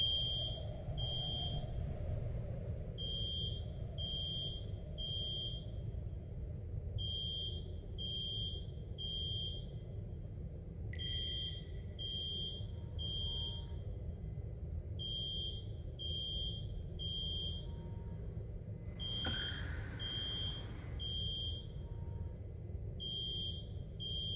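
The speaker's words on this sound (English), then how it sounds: "I just manually triggered the alarm and instantly got a notification on my phone." An alarm speaker in a Rust video game base, triggered by hand, sounds a loud steady run of short high electronic beeps in groups over a low rumbling drone, with a brief sweep of other game noise partway through and no talking.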